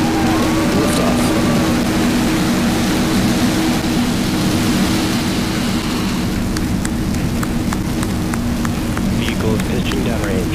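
A SpaceX Falcon 9 rocket lifting off, a loud, steady, broadband roar filling the whole stretch with a low rumble, with faint voices underneath.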